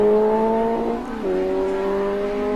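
A 1980 AF2 Championship racing car roars under hard throttle after a stall, its engine a loud, sustained tone that dips briefly, then climbs and holds steady at full power.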